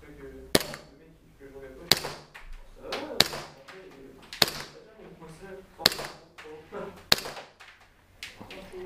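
A WE Glock 19 G-Force T4 airsoft replica pistol fires about seven sharp, snappy reports at irregular intervals of one to one and a half seconds, close and loud with a short ringing tail after each shot.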